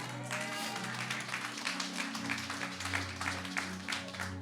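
A church congregation claps and cheers together, a steady wash of applause with rhythmic bursts over a sustained background hum, moderately loud throughout.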